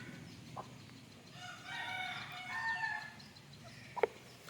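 Free-range country chickens in a village yard, clucking and calling at moderate distance over a faint outdoor hum, with a short sharp squawk near the end.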